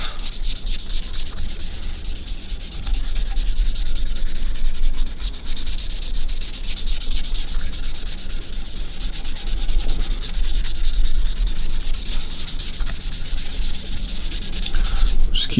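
Stain being wiped back by hand on a quilted maple carve-top guitar body: a continuous close, dry rubbing and scrubbing, steady and fairly loud, with no talk.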